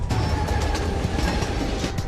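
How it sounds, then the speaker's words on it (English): A runaway freight train speeds out of control at over 160 km/h, a loud, continuous rumbling roar of wheels and rails with dense rattling throughout. "The train is traveling at more than 160 kilometers an hour."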